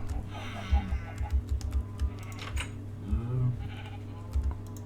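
A video game sheep bleats in short repeated calls over a steady hum and scattered keyboard-like taps, with no talk.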